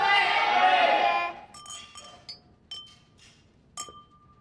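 Glasses clink together in a toast among a group at a social gathering, a few bright chinks after a burst of cheering voices, with short sharp taps scattered over a quiet pause.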